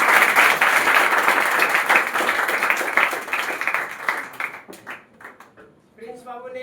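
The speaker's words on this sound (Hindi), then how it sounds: "तालियां बजाइए सब लोग।" A crowd claps for a student at a coaching centre's award ceremony in Bihar, loud dense applause that thins out and stops, followed by a voice speaking over a microphone.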